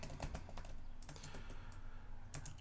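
Computer keyboard typing, a quick irregular patter of close key clicks in short bursts over a steady low background hum, with no talking.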